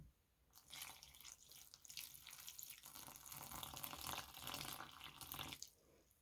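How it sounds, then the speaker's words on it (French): Lukewarm water pours steadily into dough ingredients for twisted donuts, a soft continuous trickle and splash lasting several seconds before tapering off, close but fairly quiet with no voices. "Maintenant, je vais ajouter de l'eau tiède."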